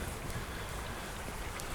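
Wind buffeting an Edutige ETM-001 omnidirectional on-camera microphone outdoors, a continuous loud low rumble with gusty blasts and steady hiss, filling the whole short stretch without any speech.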